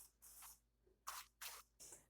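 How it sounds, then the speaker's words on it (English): Light cooking spray mists over tortillas in a few short hissing bursts, faint and close, with brief pauses between each spritz and no talking. "So just really light spray all around."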